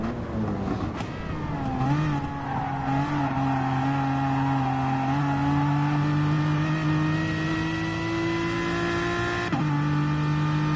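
A Porsche race car engine in an online sim racing event holds a steady high drone with smooth pitch rises, one sharp dip near the end as it shifts, loud and continuous with no talk.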